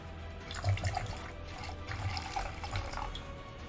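Wine pours close to a microphone in a steady liquid gush that runs the whole time, with faint glugs and splashes and no talk over it.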